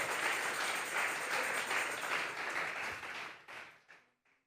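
A church congregation claps together in steady, dense applause as an offering of praise, moderately loud at first and then thinning into scattered final claps.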